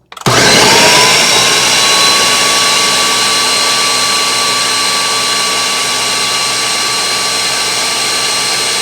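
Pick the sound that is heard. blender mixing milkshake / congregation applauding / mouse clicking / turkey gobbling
blender mixing milkshake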